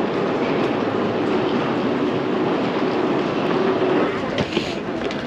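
MRT train riding from Taoyuan Airport toward Taipei Main Station, a steady loud rumble and rolling rail noise from inside the carriage, constant throughout with a brief clunk near the end.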